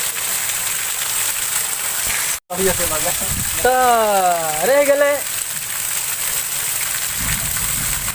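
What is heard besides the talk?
rain falling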